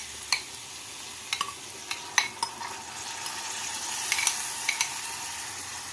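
Kidney beans and boiled fenugreek leaves are stirred in a pan of frying spices. A soft continuous sizzle runs under scattered sharp spoon scrapes and clicks against the pan.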